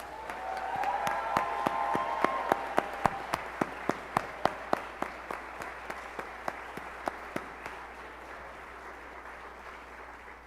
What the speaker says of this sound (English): Let's have one more round of applause for all of our honored teachers.